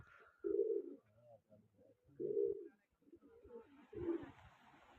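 Pigeons coo close by in low, throaty phrases, three main swells with softer murmurs between them, and a faint hiss rises near the end.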